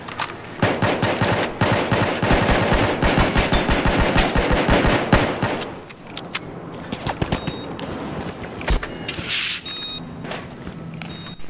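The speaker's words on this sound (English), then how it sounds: "Found a hostile machine gun." Rapid, loud machine gun fire in a video game pours out in a steady stream of shots for about five seconds, then gives way to scattered single shots, clicks and mechanical noises.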